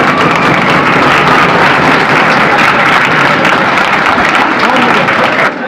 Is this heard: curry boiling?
no